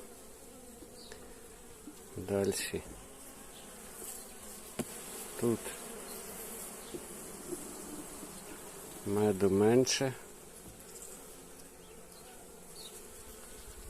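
Bees hum in a constant low drone close by, with occasional louder buzzes as individual insects pass near, while a voice speaks briefly.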